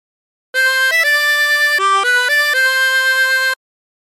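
A harmonica plays the tune Oh My Darling Clementine without bends, a clean run of sustained single notes that step up and down for about three seconds, loud and alone with no talk.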